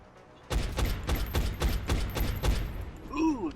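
Gunfire in the turn-based strategy game XCOM: Enemy Unknown, a rapid burst of about nine sharp, evenly spaced shots, loud and close, followed by a short electronic warble.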